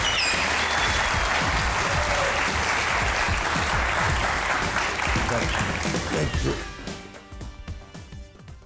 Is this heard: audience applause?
yes